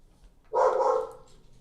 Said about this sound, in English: stupid dog who likes to bark at everything possible